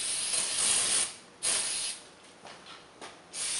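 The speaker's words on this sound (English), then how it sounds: "just get a little bit of brake cleaner in there." Brake cleaner sprays from an aerosol can onto the front brake calipers of a Ford Super Duty 4x4 in a series of sharp hissing bursts, one long and several short, close and fairly loud with no talking.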